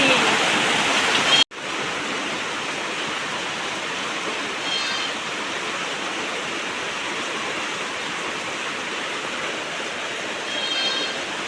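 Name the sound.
rain falling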